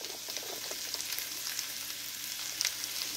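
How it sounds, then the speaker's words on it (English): Potatoes frying in a pan over raised heat, giving a steady, close hiss of sizzling oil with small crackles and pops throughout, no talking. "So I put the potatoes in and I turned our heat up just a little bit higher."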